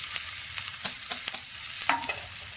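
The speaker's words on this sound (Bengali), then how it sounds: "একে পেঁয়াজগুলো ছেড়ে দিলাম তেলের মধ্যে।" Onions fry in hot oil in a pan, a soft steady sizzle with a few light stirring clicks, close and alone.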